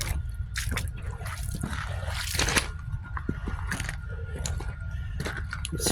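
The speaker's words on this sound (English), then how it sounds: "where there's an elevation change, the water starts speeding up, like right there" Water trickles and flows down a channel where the ground drops and the current speeds up, a steady close wash with scattered drips and splashes, no talking.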